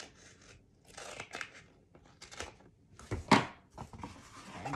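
Scissors cut through craft material for a handmade album, a series of close, uneven snips and crunchy rustles with one louder cut midway.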